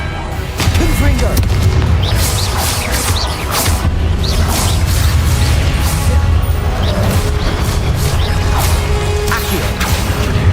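Confringo fire spell explosions in the Hogwarts Legacy video game: loud, dense combat with repeated booming blasts, whooshes and crashing impacts layered over a continuous rumbling game soundscape, with voices in the mix.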